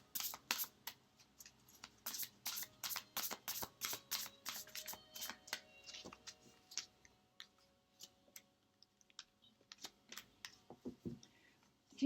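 Tarot cards shuffled and drawn in a rapid series of crisp riffles and soft slaps, close and fairly quiet, with pauses between bursts.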